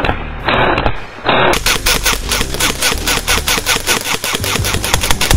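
Airsoft guns firing in an indoor CQB arena in Kerava, Finland: loud rapid bursts of sharp cracks in quick rhythmic succession, following a brief stretch of hissing noise, with no talk.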